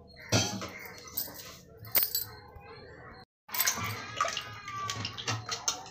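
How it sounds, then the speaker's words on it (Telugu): Black-eyed pea juice being strained and poured into rasam, heard as splashing, trickling liquid with a few clinks of utensils, close and moderately loud, broken by a brief silent gap midway. "వడగట్టేసి ఆ రసంలో వేసేద్దాము."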